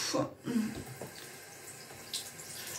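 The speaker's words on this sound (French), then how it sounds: "je le passe sous l'eau" A soft face glove rinsed under a running bathroom tap during a morning routine, with faint splashing and trickling water close by and a few louder wet bursts at the start, no talking.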